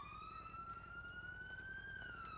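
A police car siren in a video game wails in a steady, gently rising and falling tone, faint and continuous over a low rumbling background, with no talk.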